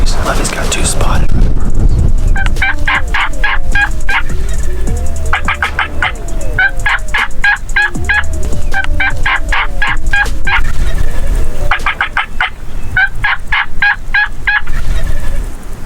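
Wild turkeys gobbling during spring turkey season, loud rattling gobbles repeated in bursts of several calls over the whole span, close and strong, with some rustling and low murmuring voices underneath.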